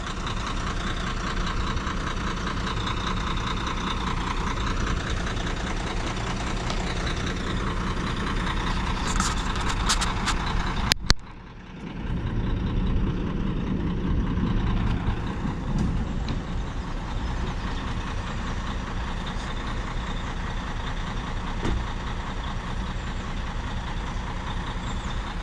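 A truck engine idles steadily at a fairground build-up in Crowcroft Park, with a continuous low rumble that dips briefly partway through and broad mechanical noise throughout.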